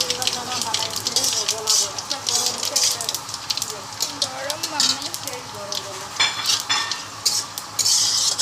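Spices and pulses go into hot mustard oil for a tempering, with a lively sizzle and repeated spoon scrapes and stirring clinks against the pan. A voice talks faintly underneath.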